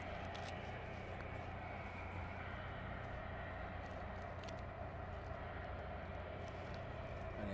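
A DHL aircraft taxiing at East Midlands Airport at night, a steady low engine rumble and whine holding at a constant level from start to finish, with no talk.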